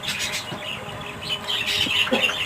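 Several birds squawking close by, short harsh calls repeated in quick irregular bursts over a light background hiss.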